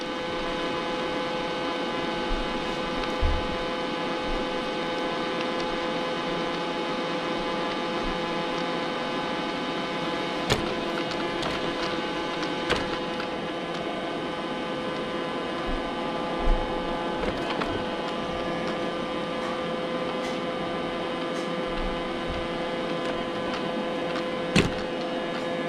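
A robot vacuum cleaner runs with a steady electric whir and tonal motor hum, broken by occasional clicks and bumps as it moves around a room. The sound stays even throughout and fairly close.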